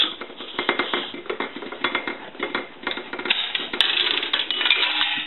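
Coins, including nickels, rattle and clink repeatedly as they drop through a three-slot payphone mechanism, a rapid series of metallic clatters and jingles, close and fairly loud.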